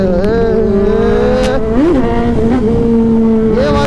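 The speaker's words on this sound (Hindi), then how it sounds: "मुझे पता है मेरे भाइयों को सुपर बाइक की आवाज़ बहुत सही लगती है" A superbike engine revs hard under acceleration, a loud, close, continuous drone whose pitch rises and dips with quick throttle changes and gear shifts, ridden through town during a lockdown.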